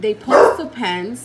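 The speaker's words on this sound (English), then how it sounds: "I'm sorry, that's my dog." A pet dog barks at home during an indoor unboxing, a couple of short, close, loud barks mixed with someone talking.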